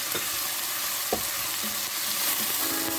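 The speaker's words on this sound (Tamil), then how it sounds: "இதில் பச்சை வாசனை போக வரைக்கும் வதக்கி எடுத்துடலாம்" Garlic, mint, ginger and green chili sautéing in a pan for mutton biryani give a steady close sizzle, with a few soft stirring scrapes and no voices.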